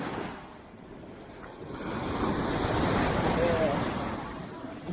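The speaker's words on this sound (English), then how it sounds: "Hopefully you guys can hear me over the waves." Ocean surf at Miami Beach rolls in, a broad wash of waves swelling louder mid-clip with wind buffeting the microphone.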